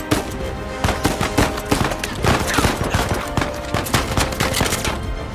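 Rapid gunfire in the Uncharted 4 video game, loud repeated shots cracking in quick irregular bursts throughout the firefight.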